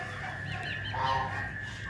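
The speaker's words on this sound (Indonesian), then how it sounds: "Ada ayam juga guys di sini" Poultry calls, clucking and honking fowl at a farm alongside ornamental Muscovy ducks, sound in a brief, busy stretch over a constant hum, moderately close.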